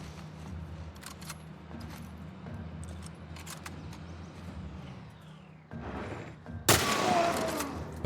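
Gunfire from The Last of Us Part I on Grounded difficulty in Pittsburgh, a burst of loud sharp shots erupting near the end after a stretch of low ambient rumble.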